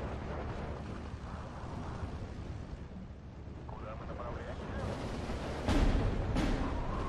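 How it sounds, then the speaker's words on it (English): Mortar fire in the wartime strategy game Steel Division 2, set at Baranavichy with Soviet forces: a steady low rumble of battle with a couple of dull booming impacts near the end. "mortar is a problem."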